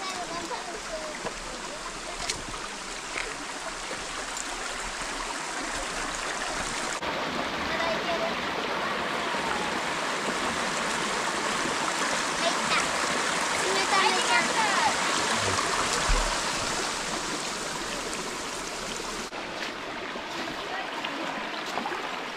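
Rushing mountain stream water on Mount Kongo's Ishibute east valley, heard close while wading upriver: a steady, dense wash of flowing water that swells slightly midway and continues throughout.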